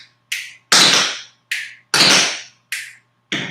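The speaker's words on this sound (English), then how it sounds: "It's like a brush with a heel slipped in the middle." Tap shoes on a hard floor strike a sequence of sharp, bright clicks: forward brush, heel, backward brush, repeated in quick clusters of three, each hit crisp and close.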